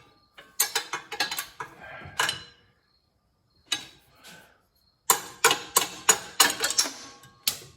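A socket ratchet tightening loose bolts on a car: bursts of quick, sharp clicking in several runs separated by pauses, fairly close and crisp, with no talk.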